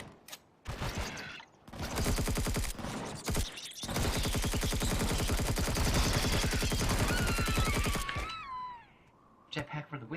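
Rapid automatic gunfire from gadget turrets in a space-survival video game, a dense, loud, sustained stream of shots lasting several seconds, with short bursts before and after and brief electronic warbling tones near the end.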